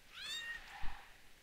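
Cat meows from the video game Grimm, a short run of high, sliding mewing calls followed by a soft low thump, fairly faint against a quiet background.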